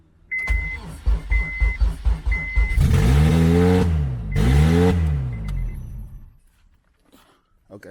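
A Honda Civic EM2 engine cranks with a rapid rhythmic whirring, then catches and revs in two loud swelling bursts before dropping off into near silence, close by.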